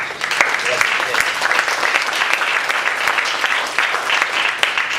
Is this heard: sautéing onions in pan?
no